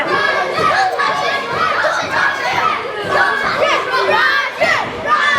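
Wrestling event crowd cheering and shouting, a dense, continuous roar of many voices that stays fairly loud throughout.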